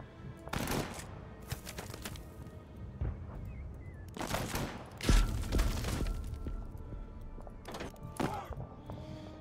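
Gunfire during the Battle of Gela in the strategy game Total Tank Generals. Scattered shots and thuds land in irregular clusters, fairly quiet and distant-sounding, with a heavier impact midway.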